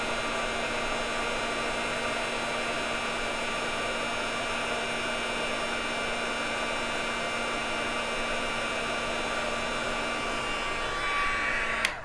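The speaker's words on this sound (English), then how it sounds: "All right, this will be loud for a sec. Just heat setting this" A heat embossing tool blowing steadily to melt embossing powder on a small legal pad notebook, a loud continuous whirring hum close by that runs unbroken before cutting off abruptly at the very end.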